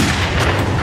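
A gunshot in a Thai drama scene: a loud, dense, rumbling blast that fills the whole moment, with no talk over it.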